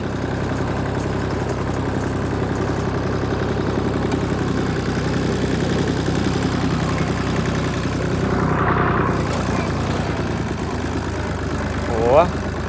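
A tractor engine idles steadily nearby with a low constant rumble, and a brief squeak near the end.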